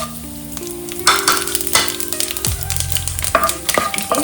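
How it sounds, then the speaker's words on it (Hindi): Cumin seeds, whole garam masala, dried chilli and bay leaf sizzle loudly in hot oil, a crackling hiss that flares as the spices hit the pan and keeps spitting close by without speech. "अब तेल गरम हो चुका है, इसमें मैं जीरा, कुछ खड़े गरम मसाला, सूखा मिर्च और तेजपात डालूंगी"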